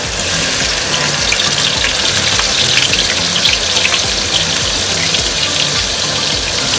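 Dried anchovies being rinsed under a running kitchen tap, a steady, close rush of water with no talk over it.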